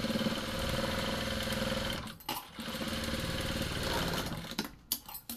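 A sewing machine top-stitches a folded strip onto a plain blouse, its motor whirring steadily and loudly with a rapid stitching rhythm, pausing briefly midway and stopping near the end.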